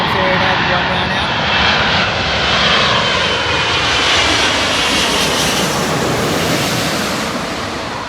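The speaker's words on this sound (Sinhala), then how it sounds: "මම ඔයාලට එයාබස් A380 ප්ලේන් එකක් ලෑන්ඩ් කරන එකක් පෙන්නුවා" An Emirates Airbus A380 lands at London Heathrow, its engines a loud continuous roar that swells and slowly fades, heard outdoors from the airport viewpoint with wind noise.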